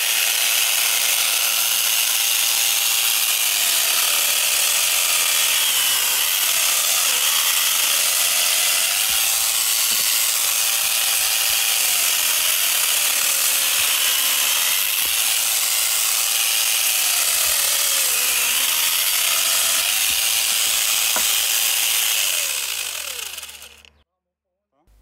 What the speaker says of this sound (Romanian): folosind acest flex cu acumulator și aici încercăm să curățăm un tufiș